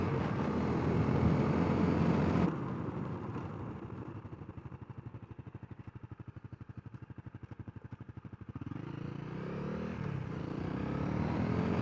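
A Honda CRF250L dual sport motorcycle engine drones under riding wind, dropping to a rhythmic, pulsing putter at lower revs before rising again as the bike accelerates.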